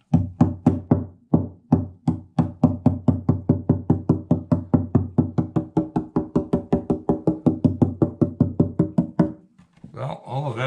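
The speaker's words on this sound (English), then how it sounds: "I wanted to bang on the back braces while we're here." Knocking on the back braces of a Sigma Martin acoustic guitar during an inspection: a long, steady series of hollow woody taps that ring briefly and sound close, ending with a short rustle.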